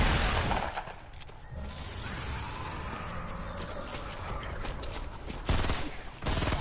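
Gunfire in the Fortnite video game during a zombie-themed Fortnitemares mode, heard as a dense, noisy burst of shots at the start and again near the end, with a steady rumbling game soundscape in between.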